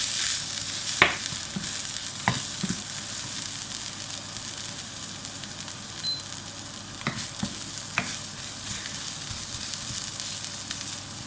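Onion and wild greens stir-fried in butter in a pan, a steady close sizzle and hiss with occasional scraping stirs, no talking.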